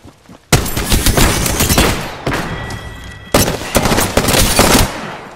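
Apex Legends gunfire rattles in loud, sustained automatic bursts, three long volleys separated by short gaps, with a few heavy thumps and no talk.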